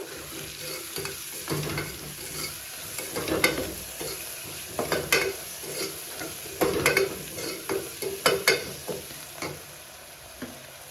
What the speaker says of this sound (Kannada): ಎಲ್ಲನೂ ಹಾಕ್ಕೊಂಡು ಚೆನ್ನಾಗಿ ಇದನ್ನ ಫ್ರೈ ಮಾಡ್ಕೊಳ್ಬೇಕು